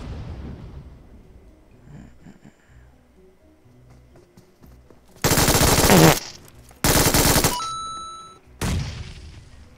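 Loud, close bursts of gunfire from a player's weapon in the PUBG video game at Georgopol: a quieter stretch of faint activity, then three separate heavy bursts of automatic fire, each a second or so long.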